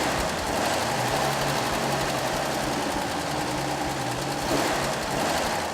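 Continuous, even chugging of an old car engine idling steadily after a tune-up, loud and close, with no talk.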